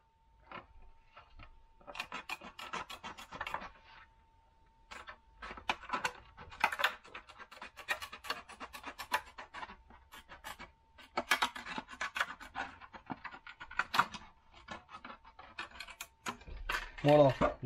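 Scissors snipping and rasping through a clear Lexan polycarbonate body shell for a WLtoys 124008 RC buggy, in irregular bursts of close cutting with brief pauses, ending in louder rustling handling.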